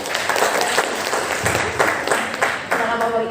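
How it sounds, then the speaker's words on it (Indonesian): Applause from an audience at an Indonesian media, elections and democracy event, a steady loud wash of clapping with some voices mixed in, welcoming a speaker to the stage. "Tepuk tangan untuk Pak Fahri"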